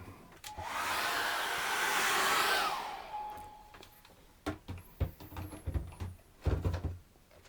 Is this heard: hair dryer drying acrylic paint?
yes